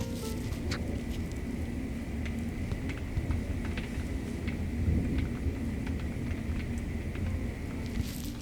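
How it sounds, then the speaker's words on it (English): Steady rain from a storm patters down with a low background rumble, a continuous wash of sound with occasional sharper drips, no voices. "Can you guys hear the rain?"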